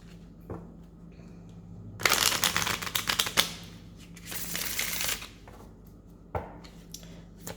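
A deck of Spellcasting Oracle cards is shuffled close by in a quiet room, with two crisp bursts of riffling and flicking cards and softer handling between them. No one speaks.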